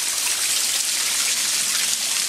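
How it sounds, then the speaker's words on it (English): Rainwater running off a roof into a low yard, a steady close splashing rush of water that holds even throughout. "Here's the water running off the roof"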